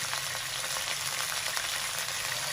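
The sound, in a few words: sautéing chicken in a pan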